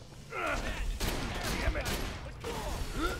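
Enemy gunfire in Borderlands The Pre-Sequel: loud, sustained bursts of shots and blasts crowd most of the stretch, with a voice talking over them.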